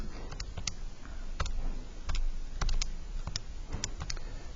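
Numbers being typed on a computer keyboard, a steady series of light, close key clicks that come in small irregular bursts.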